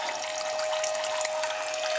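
Maple sap pours in a steady stream from a tap into a container inside a steaming sugarhouse, a continuous close splashing trickle with no voices over it.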